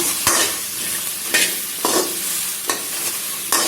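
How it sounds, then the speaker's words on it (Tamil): Sliced okra is stir-fried with rock salt in a dry pan over medium flame, a loud sizzle broken by five sharp scraping bursts as the spatula stirs it, no voices. "வெண்டைக்காவை போட்டு நல்லா வதக்கி விடுங்க"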